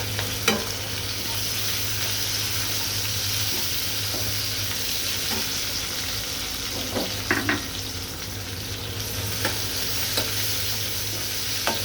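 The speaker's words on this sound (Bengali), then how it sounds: "চিংড়ি মাছগুলো দিয়ে আবার একটু ভেজে নিব" Shrimp frying with taro leaves and bay leaf in a pan for a Bengali stir-fry; a steady crackling sizzle runs throughout, close by, with occasional clinks and scrapes of stirring and no talk.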